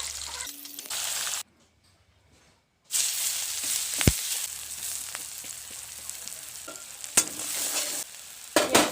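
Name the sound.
onions frying in a pan for fried rice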